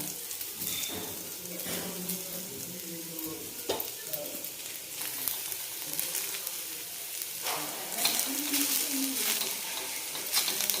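Broken-up onion pieces roast and sizzle in a pan on high heat, with steady close frying crackle and intermittent scraping of a stirring spoon.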